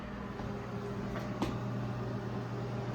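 A microwave oven runs steadily while cooking, its low, constant hum and whir holding even throughout, with a faint brief click partway through.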